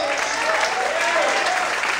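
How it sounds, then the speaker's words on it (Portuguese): A church congregation applauds through an evening sermon, a thick, continuous roar of many hands clapping, with a voice carrying over the top. "Você pode aplaudir a Deus"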